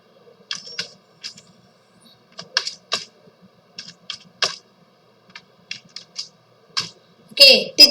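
Computer keyboard keys clicked in short irregular bursts while code is written for an Arduino-style embedded LED project, close and fairly crisp, with a louder clattering flurry at the end.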